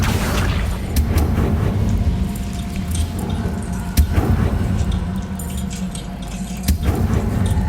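A fire spell cast in a wizarding action video game, with a steady rumbling, crackling bed of flames and a few sharp bursts and bangs near the start, middle and end, with no talking over it.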